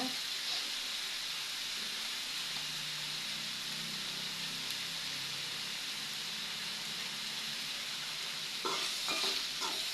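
Neithuli dried fish (karuvadu) poriyal being stir-fried in a pan, a steady close sizzle with soft stirring scrapes and a few sharper clatters near the end, no one speaking.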